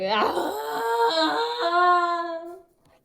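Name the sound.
person imitating a growl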